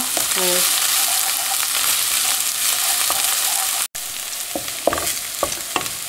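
Onions with chopped chili stew in a pan, giving a steady close sizzle with utensil clinks and scrapes, a short break midway, then scattered spatula knocks.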